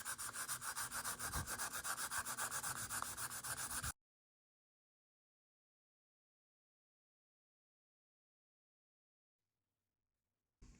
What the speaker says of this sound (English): I'm going to have to sand it all out.